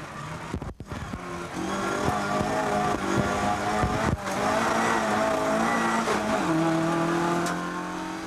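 A Ford Escort races up a hillclimb course at an Inistioge hillclimb event in 1997, heard from on board as the engine revs hard and climbs through gear changes, loud and continuous with brief lifts between shifts.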